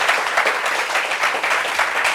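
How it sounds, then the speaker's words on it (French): An audience at a meeting gives a speaker a short burst of applause, a dense patter of clapping hands that holds steady for a couple of seconds. "Applaudissements pour elle"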